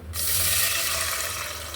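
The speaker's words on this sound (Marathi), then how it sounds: "अगदी थोडंसं गरम झालं की मग आपल्याला ह्याच्यात पाणी टाकायचं" Water pours steadily into a pan of hot oil right after a brief start, a continuous rushing splash that stays loud throughout.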